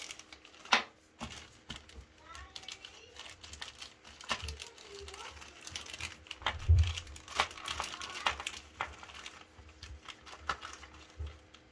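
A small plastic part is pulled from a plastic bag while fitting a replacement toilet seat, making scattered crinkling and rustling with a few soft knocks, close and fairly quiet.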